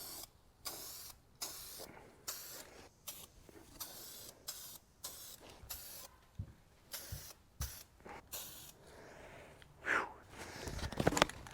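Third coat of spray paint going onto an aluminum Toro Super Recycler mower deck, a series of short close hissing bursts from the can separated by brief pauses, with a couple of quiet knocks near the end.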